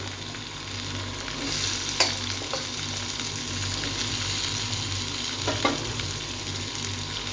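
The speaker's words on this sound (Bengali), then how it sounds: "তো এটাকে এখন ভালো করে ভাজি।" Onion, capsicum and green chili sizzle and fry with ginger and garlic in hot oil, a steady crackling hiss that runs throughout, with occasional stirring clicks and scrapes.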